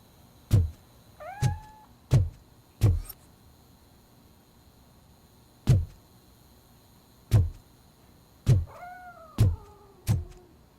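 A cat in the RoboCop: Rogue City video game meows in short, loud, separate calls, about eight spaced across the stretch, each with a sharp thump at its onset and a quiet gap between.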